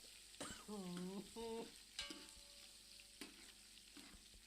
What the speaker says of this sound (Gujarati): તેને આપણે થોડી વાર માટે તેલમાં સડવા દઈશું, જેથી બરોબર મરચાં આપણા પાકી જાય